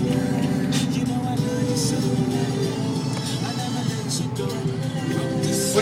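A Porsche drives along with a steady engine hum and road noise from inside the cabin. The sound stays even and moderate throughout, and voices can be heard over it.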